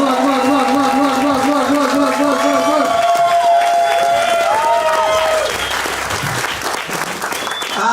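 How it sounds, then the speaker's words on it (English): Loud, dense applause from a comedy club audience, with steady clapping and some cheering under sustained tones and voices, easing off slightly toward the end. "show one of your own some love and clap it up loud for Mr. Damien Pruitt."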